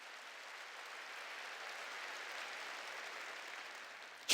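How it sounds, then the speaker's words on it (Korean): A church congregation claps together in a steady, sustained wash of applause that fills the room evenly, with no speech over it. "박수로 하나님께 박수를 치려면 치고 말려면 말고"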